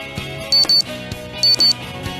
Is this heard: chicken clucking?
no